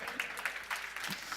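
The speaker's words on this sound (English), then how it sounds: "So I wasn't expecting an applause right there" Light, scattered audience clapping at a software demo, a handful of separate claps spread across the moment, moderately distant in a presentation room.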